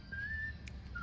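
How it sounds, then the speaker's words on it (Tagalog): A single bird whistles outdoors in a brief, thin, high note, repeated once more faintly near the end against quiet background hiss. "Kita mo, narinig mo yung huni ng ibon"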